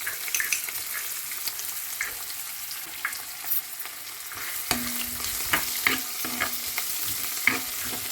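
Onion sautéing in a pan with cumin for a toor dal curry, a continuous soft sizzle with repeated stirring scrapes and clinks of the spoon, close up and with no speech.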